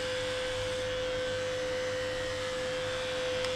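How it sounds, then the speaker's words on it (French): An electric dog hair clipper with a built-in vacuum runs continuously with a steady, even motor hum and airy whoosh, unchanging throughout. "en vérité c'est une tondeuse pour les chiens"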